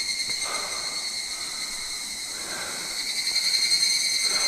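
Dense, continuous insect chorus, likely crickets, along a rural road near Magome-juku and Tsumago, several steady high-pitched shrill layers trilling loudly without pause.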